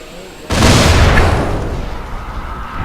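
A container is shot in the video game Dying Light and explodes in a loud, sudden blast, followed by a rumbling, debris-filled roar that slowly fades while a low background continues.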